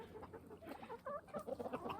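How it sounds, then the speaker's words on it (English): Chickens in a woodland pen cluck in short, soft bursts, several birds close by, quiet and uneven against a still, cold outdoor background. "We recently redid the area where the chickens are."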